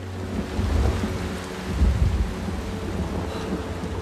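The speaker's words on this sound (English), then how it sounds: "Don't you like rain, young man?" Steady rain with two deep rolls of thunder, the first near the start and a stronger one about halfway through, rumbling over constant patter with no voices.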